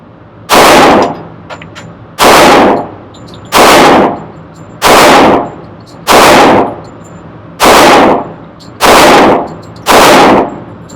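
A lightweight-frame Wilson Professional .45 pistol fires eight loud, close gunshots at an indoor shooting range, each a sharp blast spaced evenly about a second apart, with no talking.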